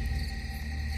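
Steady, dense chirping of crickets on a still night, a continuous shrill insect drone with no other sounds breaking through.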